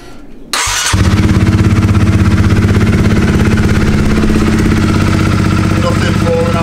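A Honda CBR125R motorcycle engine starts after a brief crank, then settles into a steady, loud idle that runs close up and alone, with the clutch being worked.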